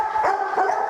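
A Rottweiler on a farm lets out two short, close barks in quick succession, with no talking over them.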